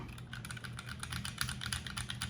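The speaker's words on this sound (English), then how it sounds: "This right here is where I set up all my MX switches to actually lube them, and then yeah, they end up sounding, again, nice and crispy." Fast, close typing on a mechanical keyboard fitted with lubed MX switches makes a dense run of crisp, even clicks and clacks, with no voices over it.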